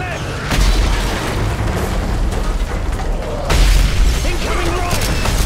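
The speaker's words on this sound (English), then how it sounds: "Mortar incoming!" Heavy mortar blasts in a combat video game, two deep booming impacts landing about three seconds apart over a continuous rumbling battlefield din.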